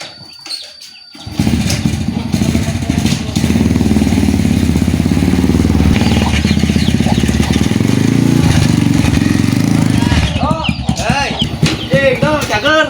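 A motorcycle engine runs close by, rising from a start into a steady, loud drone that carries on throughout while people talk over it.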